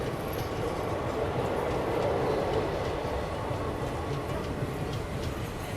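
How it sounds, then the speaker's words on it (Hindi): An Indian passenger express train to Puri rumbles past on the rails, a continuous loud roar with rattling wheels and a faint clickety-clack, no voices. "ये गाड़ी पुरी की ओर जा रही है"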